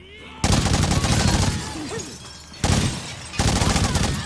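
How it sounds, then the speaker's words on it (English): Masterwork assault rifle in State of Decay 2 firing rapid automatic bursts, loud and close, three separate strings of shots with short pauses between, a brief voice in a gap. "I still have a masterwork assault rifle"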